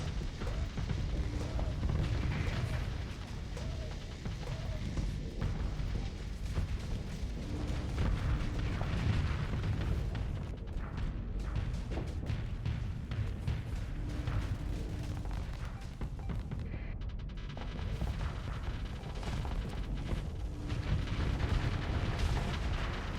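Missile explosions and weapon impacts in the space combat game Starsector rumble as a dense, continuous barrage of booms and blasts, loud and sustained throughout with no voices.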